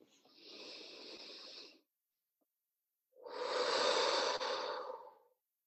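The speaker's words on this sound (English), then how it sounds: "Breathe in through your nose." Two slow, close breaths drawn in through the nose during a guided group healing session, each a soft airy rush lasting over a second, separated by a short silence in an otherwise quiet room.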